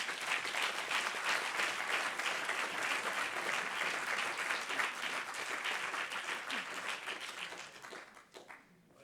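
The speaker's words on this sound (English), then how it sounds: "I ask you now for a big applause for Christina" Dense audience clapping at the Prize D4D 2020 award ceremony rings out steadily for several seconds, then thins and fades to scattered claps at the end.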